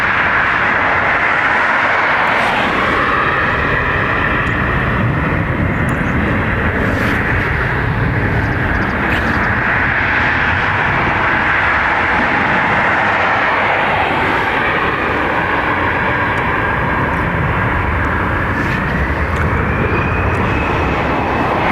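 A jet airliner takes off from the runway at Dublin Airport, a loud sustained engine roar with a rising whine that holds steady throughout as the aircraft accelerates and climbs.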